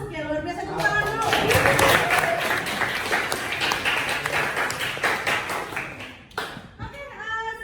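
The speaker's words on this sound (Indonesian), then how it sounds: "Luar biasa, tepuk tangan dulu." A class of students claps their hands in a classroom, a burst of lively applause that swells, holds for several seconds, then fades out, with a teacher speaking briefly before and after.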